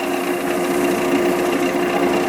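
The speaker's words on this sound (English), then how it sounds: "I can feel the grinds of the Yorkshire grit doing its abrasive job on the bowl" A wood lathe spins a sycamore bowl on slow speed while Yorkshire grit abrasive sands it, a steady loud whirring drone with a constant hum and no pauses.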